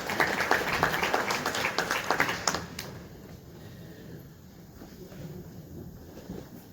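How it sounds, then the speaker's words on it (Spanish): A congregation claps during a church sermon, a brief burst of dense applause that fades out after about three seconds into quiet room noise. "Un aplauso a esa palabra"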